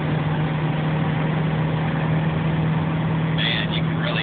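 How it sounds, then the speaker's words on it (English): A car engine hums steadily in stopped freeway traffic behind an overturned truck on I-580 East, a constant low drone close by, with a brief faint squeak near the end. "you can really hear the engine in this baby roar"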